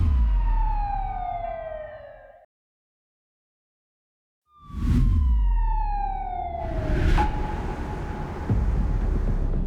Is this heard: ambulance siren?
yes